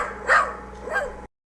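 A toy dog dressed as a dinosaur gives two short, sharp barks, close and clear, the first louder than the second, then the sound cuts off abruptly.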